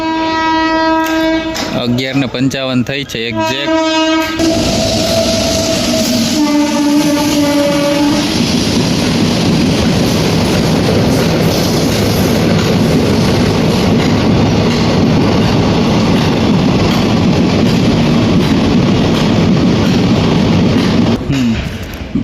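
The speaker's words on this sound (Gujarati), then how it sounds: "એક ટ્રેન સામે આવી." A train at a railway station sounds loud horn blasts, then rumbles past close by in a sustained roar, with someone speaking briefly over it.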